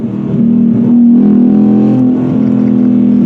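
Car engine revving loudly nearby, a steady harmonic growl that swells and holds across the clip before easing slightly, with no voices over it.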